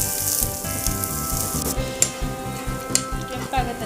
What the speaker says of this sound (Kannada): ಕೆಂಪಾಗೋ ತನಕ ಒಂದು ಸ್ವಲ್ಪ ಫ್ರೈ ಮಾಡ್ಕೊಳ್ಳೋಣ.